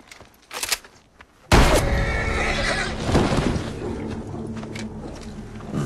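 A horse in a western film neighs loudly, starting abruptly after a few soft thumps and carrying on as a long whinny over a dense, noisy soundtrack.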